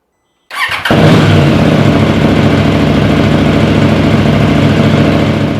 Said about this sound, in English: we're going to get the bike warmed up